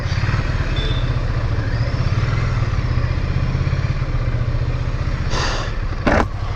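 Air-cooled Ducati Scrambler 800 motorcycle engine, a 2024 model, running with a steady low rumble throughout, loud and close, with a couple of brief louder bursts near the end and no talking.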